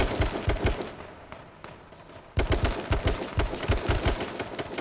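Bursts of automatic gunfire in the battle royale game H1Z1 King of the Kill, rapid evenly spaced shots in two runs with a short lull between, loud and close, no talk.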